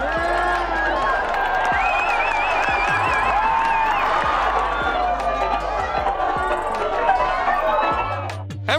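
A race crowd cheers and shouts for a dog running in a race, a loud continuous roar of voices with scattered whistles and claps, mixed with music and people talking throughout.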